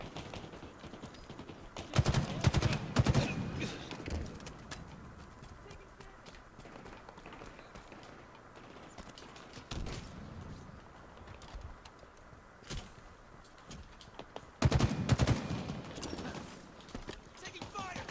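Gunfire in the video game Halo Infinite comes in rapid bursts, loudest early on and again near the end, with a voice speaking over the mix of game noise.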